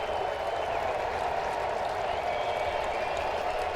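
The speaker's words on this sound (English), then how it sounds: "Crowd to their feet ahead of an 0-2." Baseball crowd at a Brewers and Nationals game rising to its feet, a steady wash of applause and crowd noise held at an even level, distant and broad, with no voices standing out.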